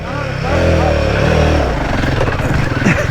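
Royal Enfield Himalayan 450 adventure motorcycle engine revving hard off-road, loud and close with rising and falling throttle, rough and strained, while a voice speaks over it.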